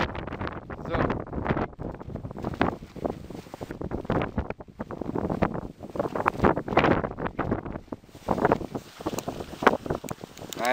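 Strong stormy wind shakes a tent during a storm on the Camino de Santiago, with gusty, uneven buffeting and flapping roaring close to the microphone throughout.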